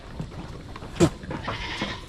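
Goats bleat at a farm: one sharp, loud bleat in the middle stands out over quieter, scattered bleats and low background noise.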